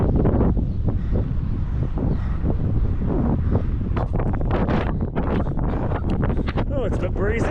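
Strong wind buffeting on an exposed mountain saddle in the Ruahine Ranges, a steady loud roar across the whole stretch with gusty rumble on the microphone and brief bursts of movement noise.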